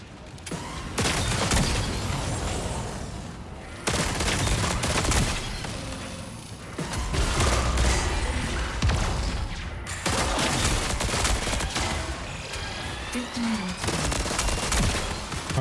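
Heavy machine gun in a video game, the Demolition HMG, fires long sustained bursts at a commander, loud and close with dense rapid reports broken by short pauses, over background battle noise.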